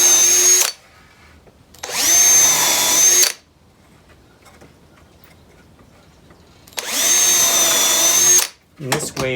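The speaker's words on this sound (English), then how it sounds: "First I'm going to pre-drill and countersink" Power drill pre-drilling and countersinking screw holes in scrap lumber for a heavy-duty shipping box: three loud bursts of high whine, each winding up and down, separated by quiet gaps, close by.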